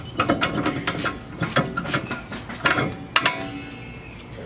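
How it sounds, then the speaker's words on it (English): A ratcheting, clicking mechanism, fitting a parking brake being released on a Lexus IS300 during rear pad and rotor replacement, heard as a string of close, uneven clicks and a louder snap near the end. "Oh, parking brake is on. Let me take that off."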